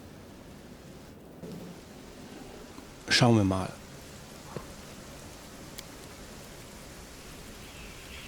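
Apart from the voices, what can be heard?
rain and thunder from video game Pathfinder: Wrath of the Righteous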